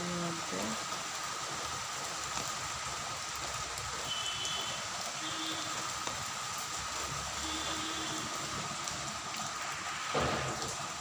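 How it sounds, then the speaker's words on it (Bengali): Continuous rain falls outside during a thunderstorm, a steady hiss that stays fairly faint throughout, with a few brief tonal chirps and a small bump near the end. "কন্টিনিউ বৃষ্টি হইতেছে,"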